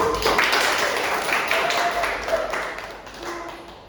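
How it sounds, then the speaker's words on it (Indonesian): Classroom applause for a student group, a brief burst of scattered clapping from many hands near the listener that fades over a few seconds, with faint voices underneath. "tepuk tangan untuk kelompok 1"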